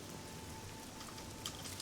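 Rainfall in the fantasy game Oblivion forms a continuous soft hiss of drops, with a brief brighter splash or patter near the end and no one talking.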